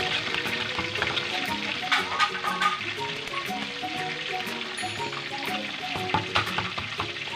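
Garlic and chili sizzle steadily in a hot pan, a dense continuous crackle with occasional stirring scrapes and clinks close by, no talking.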